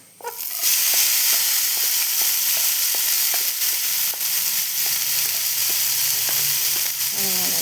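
Nettle leaf thoran ingredients fry in a hot pan with a steady, loud sizzle after a quick start, with faint scraping stirs ticking through the hiss and no talking.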